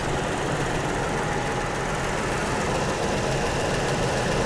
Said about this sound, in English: The engine runs nice and quiet.